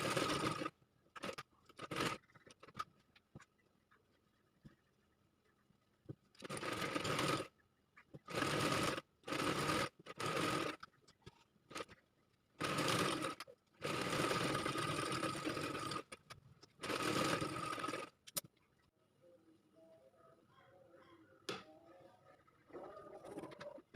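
Sewing machine stitching together two 6-inch cloth pieces of different colours, heard as a series of short, loud whirring bursts separated by pauses, close by with no talk.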